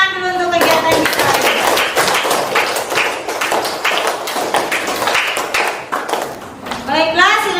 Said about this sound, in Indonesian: Beri tepuk tangan dulu untuk kegiatan kita.